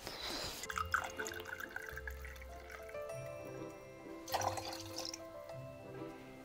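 Noilly Prat vermouth poured into cocktail glasses, faint trickling and dripping liquid over a quiet room background, close and soft, no talk.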